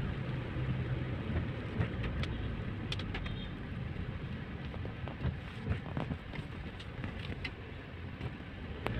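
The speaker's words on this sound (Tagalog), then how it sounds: "Ulan, maulan." Rain pattering on a car during wet traffic along Wilson Avenue in Greenhills, San Juan, heard from inside as a soft steady wash with scattered drips and taps, faint road hum beneath and no talking.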